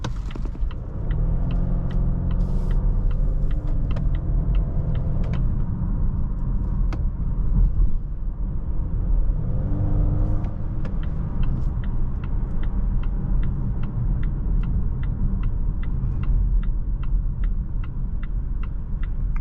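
A 2025 Volvo V60 Cross Country B5 Ultra drives with a steady low interior road rumble and engine hum rising in a couple of gentle swells, while a faint regular ticking, like a turn signal, runs underneath.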